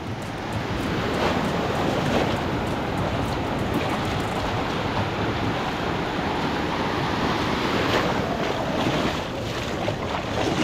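Steady ocean surf at low tide with a constant wash of breaking waves and wind noise buffeting the microphone, no voices heard.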